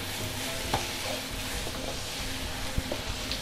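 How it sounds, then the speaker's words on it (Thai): Beef stir-fried with curry paste in a pan for a Thai chili-curry stir-fry, continuous sizzling with scattered spatula scrapes and taps, close and steady, no talking. "ผัดเนื้อให้หอมนะคะ"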